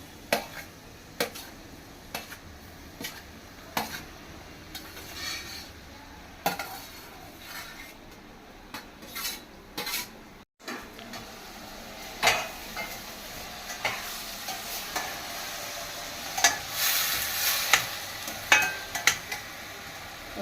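Ridge gourds and onions fry in a pan under a steady low sizzle, punctuated by repeated sharp clinks and scrapes of a spoon stirring against the metal, with no talking.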